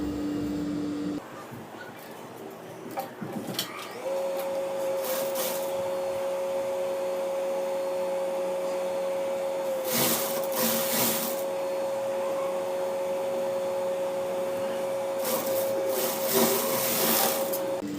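Sewing machine stitching a T-shirt converted from a chudidar, with bursts of fast mechanical whirring at intervals over a steady hum; a voice is faintly present.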